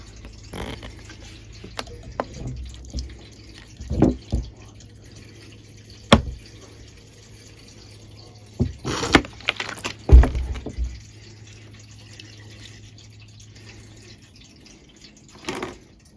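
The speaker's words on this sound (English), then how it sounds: "So I'm going to give that a rinse through again." Sprouts being rinsed and drained in a jar indoors: scattered drips and splashes of poured water, a few sharper knocks and clatters of the container, quiet between bursts.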